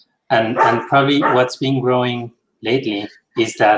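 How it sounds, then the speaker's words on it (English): Dog barking repeatedly nearby during a conversation about albatross conservation in Mexico, sharp barks and yips mixed in under continuous close speech. "I'm sorry about the dog."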